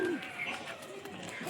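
A pair of restless pigeons, a male and a female, coo softly at close range in a short low call, with faint chirps and background noise around it.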